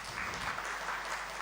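Brief, faint applause from an audience at a corporate investor meeting, a soft continuous patter of clapping heard at a distance.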